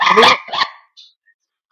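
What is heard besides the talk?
dog barking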